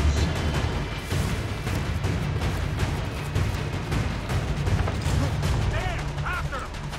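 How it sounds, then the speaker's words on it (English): Enemy gunfire in Assassin's Creed III: scattered sharp shots crack amid a busy, dense game soundscape with constant background noise and some voice-like chatter, fairly loud throughout. "they fired at me"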